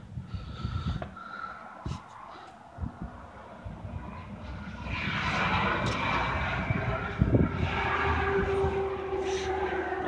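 A 1978 Ford F150 truck engine runs with a rough, uneven start of sputters and knocks before settling into a louder, steadier roar close by.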